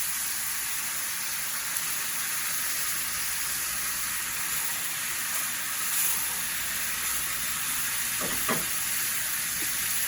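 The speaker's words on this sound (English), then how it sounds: "Listen to that sizzle." Steady, hissing sizzle of dressing with added water in a hot pan, continuous and close, with a brief clink of a utensil near the end.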